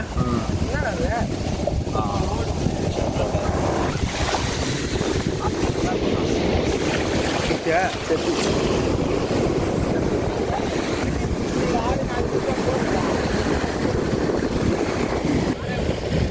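Ocean waves wash continuously onto a beach, loud and close, with heavy wind buffeting the microphone throughout.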